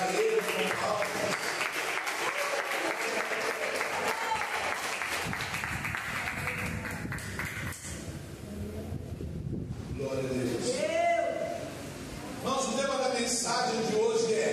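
A church congregation claps during worship, a sustained wash of applause that fades mid-way and returns, with some background noise and speech around it.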